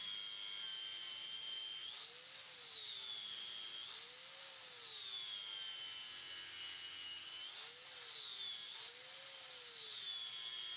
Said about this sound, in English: These flap sanding wheels on a disc grinder or angle grinder really work nicely.